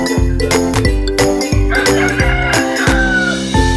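Texas chickens, young free-range birds about two months old, crow and cluck in close repeated bursts, loud and busy with overlapping calls and no talking.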